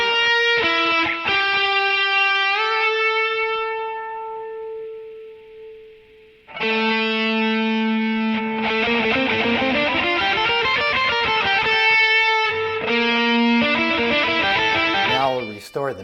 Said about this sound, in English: Now I'll isolate the RGX so you can hear its sonic signature better.